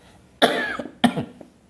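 Two sharp coughs, close and fairly loud, about half a second apart, with brief quiet between them.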